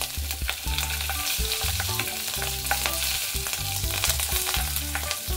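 Steady, loud sizzling of nigella seeds and slit green chilies frying in hot oil, with a continuous crackle and occasional stirring clinks throughout.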